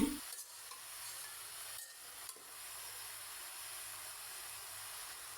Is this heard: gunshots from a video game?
no